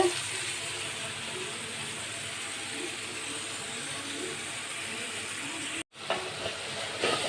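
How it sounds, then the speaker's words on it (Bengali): Koi fish fry in a pan with a continuous close sizzle of hot oil, broken by a brief sharp cut near the end before the hiss resumes; no one speaks. "এদিকে মাছটা ভাজা হচ্ছে"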